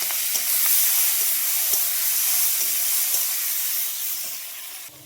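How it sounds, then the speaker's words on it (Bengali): Onion drops into hot oil already holding cumin and bay leaf, raising a loud, steady steamy hiss and sizzle close by that fades slightly at the end. "দেখো আমি এই যে পেঁয়াজটা দিয়ে দিলাম"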